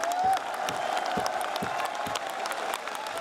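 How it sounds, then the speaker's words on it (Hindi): A large crowd at a memorial ashes-immersion gathering for Kirori Singh Bainsla applauds to welcome Om Birla, with sustained dense clapping and a few cheers and whoops, loud and close throughout. "मैं चाहूंगा कि गगनभेदी तालियों से उनका स्वागत करिए"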